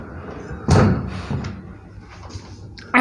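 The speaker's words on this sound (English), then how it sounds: "this is the sliding door" A hotel room sliding door in a worn condition with a faulty lock is shoved along its track, giving a loud thud, then a dragging rumble that fades, then a sharp knock at the end.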